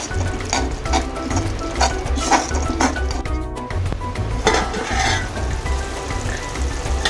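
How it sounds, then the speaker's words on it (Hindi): Tomato-garlic paste masala fries in hot oil for besan gatte curry, a steady close sizzle broken by repeated scraping stirs and light clinks of a spoon against the pan, with no talk. "हम मसाले को अच्छी तरह भून लेंगे, जब तक भूनेंगे जब तक कि तेल ना छोड़े मसाला।"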